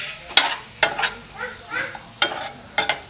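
A spoon scrapes and stirs brinjal curry in a pan in several distinct, fairly loud strokes spaced through the stretch, with a low sizzle underneath and no talking.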